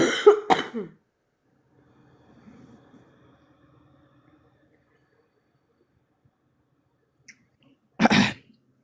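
A few close coughs at the start, a long quiet stretch with faint background murmur, then another harsh cough near the end.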